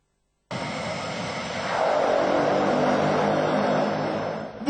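A seaplane's propeller engine drones steadily and grows louder, a broad continuous roar with no voices.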